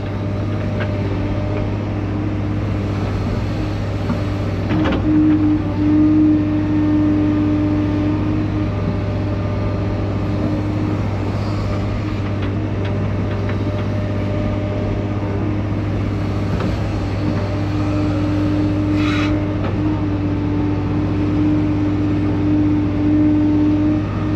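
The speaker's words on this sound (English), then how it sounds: "cocked the front of the truck away from the pile" Heavy diesel machine idling and working steadily, its low engine drone constant, with a loader bucket digging dirt off a pile at a building pad site; faint scraping and clanks rise briefly over the engine noise.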